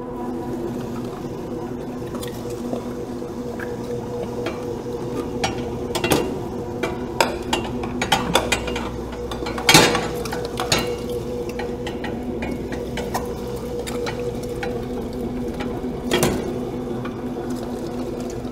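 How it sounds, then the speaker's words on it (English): A Butcher Boy mixer grinder churns through lamb with a steady mechanical whir. Irregular clicks and knocks sound close by throughout, and nobody speaks. "So now we're going to run this through our butcher boy grinder."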